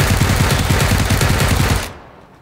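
Close, loud automatic gunfire rattles in rapid bursts during a PUBG match, then stops abruptly and leaves near silence.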